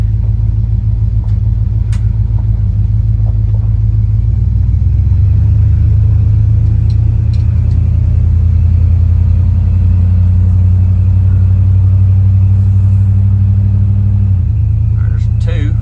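A Dodge D100 pickup truck's engine drones low and loud while driving, a constant heavy rumble from inside the cab with a shift in pitch partway through, with a few faint knocks over it.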